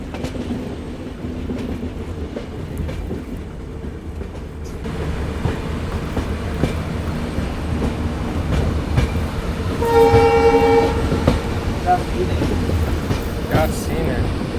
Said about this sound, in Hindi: अपनी ट्रेन मात्र 3 मिनट जैसा रुकी है और डिपार्ट करके बहुत ही खूबसूरत दिखने वाले आसाम के न्यू हैफलॉन्ग रेलवे